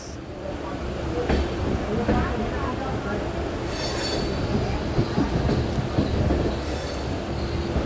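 An Indian passenger train rolls along the rails at a station where the Gaya Howrah Express stands, giving a steady rumble with light wheel clatter and a few squeals throughout.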